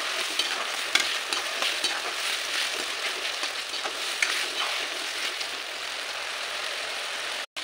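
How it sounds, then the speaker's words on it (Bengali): Onion with ginger-garlic paste frying in a pan, a steady close sizzle with scraping stirs throughout, no talking. "এখানে আমি এতে দিয়ে দিচ্ছি আদা রসুন বাটা, আদা রসুন পেঁয়াজ এটা বাটা। এটা ভালো করে ভেজে নিতে হবে খুব সুন্দর করে।"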